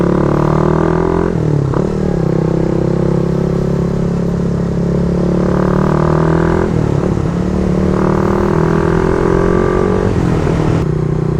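A Raider 150 FI motorcycle fitted with a Red Leo power pipe exhaust, ridden on the road, gives a loud, close engine note that climbs in pitch through each gear and dips sharply at the shifts, with no talking.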